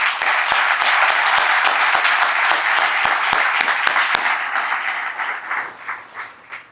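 A large crowd at the Ohio Turnpike's 70th anniversary event in Berea, Ohio, applauds an honored chairman and executive director with dense, sustained clapping that gradually thins and fades toward the end.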